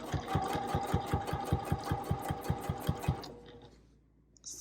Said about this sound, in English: I just go little bits at a time when I do machine binding